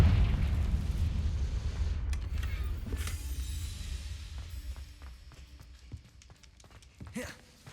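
Confringo blasting spell going off in Hogwarts Legacy: a loud booming explosion rolls out at the start and decays into a scattered trail of small pops, crackles and footstep-like clicks.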